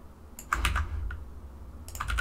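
A computer keyboard being typed on in short clusters of close, crisp keystrokes separated by brief pauses, with no talking.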